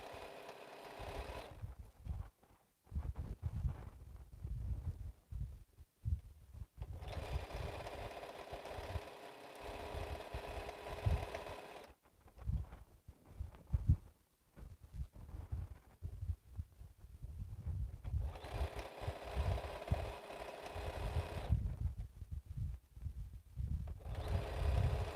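Sewing machine stitching quilt pieces into a half square triangle, faint, rapid mechanical chatter in three long runs with brief pauses between, low and steady throughout.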